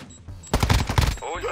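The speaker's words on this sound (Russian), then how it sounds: "Прям с дробовика ему кто-то бахнул." Shotgun and automatic gunfire in the Call of Duty DMZ game mode, a dense burst of loud close shots lasting under a second, with quieter game sounds before and after.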